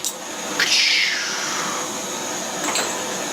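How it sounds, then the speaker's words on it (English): A propane torch roars steadily while being used to sweat copper pipe, a constant hissing whoosh with a sharp flare near the start and another brief surge later, close and loud. "Fire up the torch."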